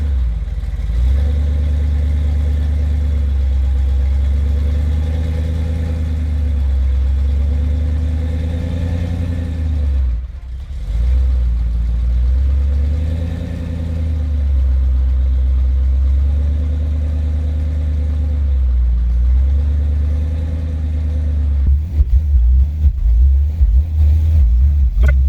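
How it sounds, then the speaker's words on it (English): A small engine runs steadily after a carburetor repair, a close, loud low rumble with rhythmic swells in revs and a brief dip midway, then rougher clattering pulses near the end. "carburetor is finally working."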